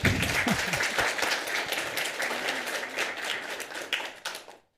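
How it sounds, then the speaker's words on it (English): Audience applause, a dense steady clatter of many hands clapping at close range, then tapering off and stopping at the end. "You can clap for me now."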